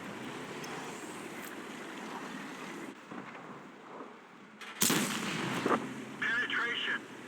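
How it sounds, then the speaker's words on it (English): Artillery fire in the World of Tanks Frontline video game, a continuous battle rumble broken by one heavy, booming blast and a few following impacts, with a voice talking. "They're all gonna drop their artillery on me, I betcha."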